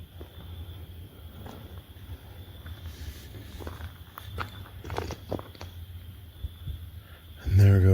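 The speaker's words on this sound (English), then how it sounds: "There goes those footsteps that you hear walking behind you." Footsteps crunch softly at night behind a camper, faint irregular steps over a quiet outdoor background, ending in a sudden loud thump of handling noise.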